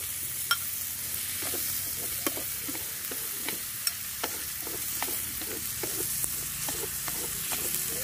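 Shrimp and pork sizzle steadily in a hot pan while a utensil scrapes and clacks against it at irregular intervals, close by, with no voices.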